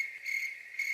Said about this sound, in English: Add some crickets is what you do.